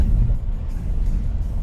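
A Ford Mustang 5.0 V8 pulling hard under acceleration gives a steady, deep engine roar that holds continuously, heard from inside the well-insulated cabin.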